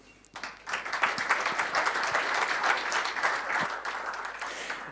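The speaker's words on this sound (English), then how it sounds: "Give him a welcome applause." A conference audience gives a welcome round of applause for a speaker at a German monitoring conference, the clapping beginning abruptly, swelling quickly and holding as a dense, lively patter from the hall.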